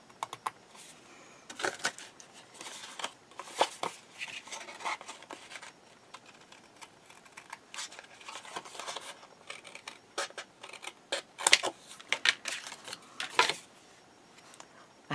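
Scissors cutting off the short ends of paper during a craft project, a series of quiet, close snips and light papery rustles in an irregular rhythm with no talking.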